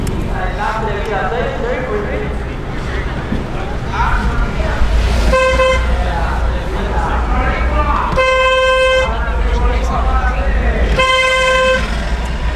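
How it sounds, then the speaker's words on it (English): A car horn gives three sustained honks at a racing event, each lasting under a second, sounding over engine noise and people talking nearby. "horn means get the f*** out of the way"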